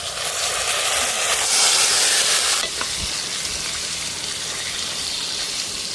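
Beef and onions fry in a pan for curry with a loud, continuous sizzle, close by, swelling briefly and then settling into a steady hiss.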